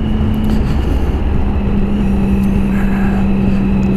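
A Triumph Sprint ST 1050 motorcycle accelerating in third gear, a loud, close engine drone with a sustained tone that holds and shifts slightly as it pulls, mixed with wind noise and no speech.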